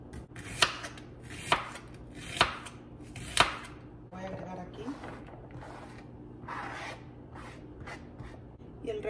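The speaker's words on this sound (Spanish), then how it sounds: "Y por último, la cebolla. Voy a cortarla en lunitas." A knife slices an onion into half-moons on a cutting board for shrimp fajitas. Four loud, evenly spaced chops come first, followed by softer, quicker cutting and rustling close by.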